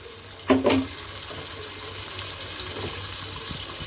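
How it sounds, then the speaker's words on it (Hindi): Mutton stock (yakhni) is poured into a cooking pot for nihari. A brief splash comes first, then a soft, steady liquid pour sounds close by. "इसमें यखनी डालेंगे"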